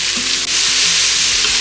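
Mushrooms and onion sauteing in butter in a pan, a loud, close, continuous sizzle with scraping stir strokes throughout and no voices.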